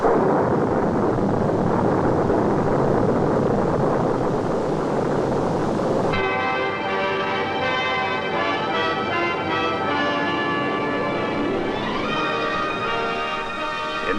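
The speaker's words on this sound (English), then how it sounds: "These tests, called static firings, involve strapping down each stage of the vehicle and firing its engines" Saturn V rocket stage engines strapped down for a static firing test roar with a continuous, loud, broadband rumble; partway through, a steady layered musical tone joins over the roar with no talking.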